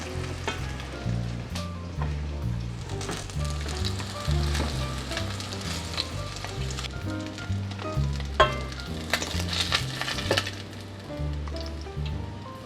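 Pink salmon cakes fry in a pan with a constant close sizzle and crackle, dotted with small pops and an occasional clink of a utensil, with no talking.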